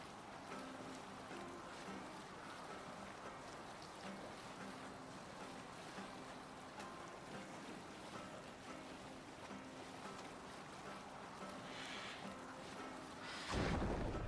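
A Viking longboat moves across open water in Assassin's Creed Valhalla, with continuous lapping waves and wind washing steadily under a faint low hum, rising into a louder surge of splash at the very end.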